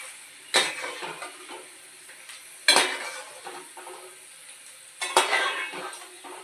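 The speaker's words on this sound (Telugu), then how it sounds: "పల్లి వేగిపోయి తీసేసుకుందాం." Peanuts frying in hot oil for kara boondi, a steady low sizzle broken by three sharp metallic clatters of a ladle stirring against the pan, close and without talk.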